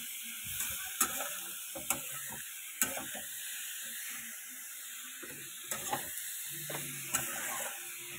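Food sizzling in a pan after salt is added, with a spoon scraping and clacking against it at irregular intervals, the sharp knocks standing out over a soft, steady frying hiss.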